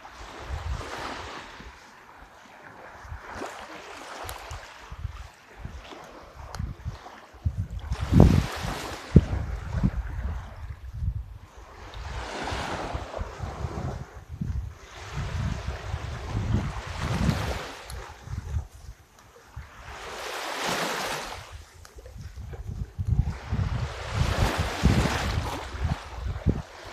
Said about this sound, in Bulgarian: Малички вълни започнаха да се появяват тук точно на брега.